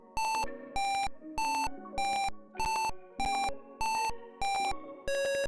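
A piezo buzzer driven by an Arduino Uno repeats a siren-like tone in about nine evenly spaced bursts, each a loud, shrill beep followed by a short decaying pause.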